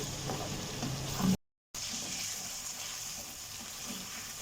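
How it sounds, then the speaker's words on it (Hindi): Ginger garlic paste frying in hot oil for a chicken bhindi masala gives a steady close sizzle and hiss that holds throughout, broken once by a brief silence. "इसमें ऐड करेंगे हम अदरक लहसुन का पेस्ट 1/2 टेबल स्पून और इसे हम 30 सेकंड तक फ्राई कर लेंगे"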